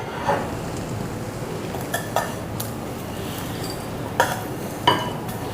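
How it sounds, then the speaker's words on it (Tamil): Roasted semolina being moved into a bowl, heard as a few light clinks and scrapes of a utensil against the pan over a soft background hiss, close and sparse. "இதை வந்து ஒரு பவுலில் மாற்றிக்கிடுவோம்."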